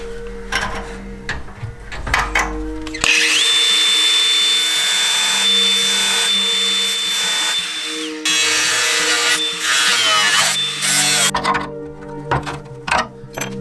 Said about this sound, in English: So what I need to do first is cut these tabs off and replace them with that sheet.